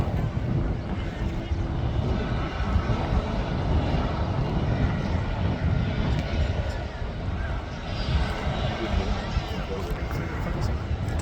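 Singapore Airlines airliner taking off from Manchester Airport, a steady broadband roar of jet engines with wind buffeting, loud and continuous throughout, with people talking over it.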